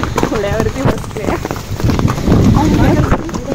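Horse hooves clip-clop on a ride near Bhivpuri waterfall, the irregular hoof knocks mixed with close, prominent talking throughout.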